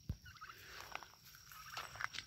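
Farm turkeys raised for meat gobble in a quick rattling burst, then trail off into softer scattered calls at moderate distance.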